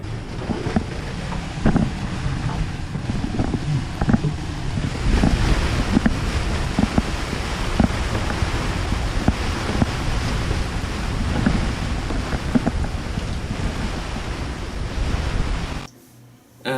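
Strong squall wind roars across the microphone while waves slosh and crash against a sailboat crossing the Gulf of Mexico, loud and continuous before cutting off abruptly near the end.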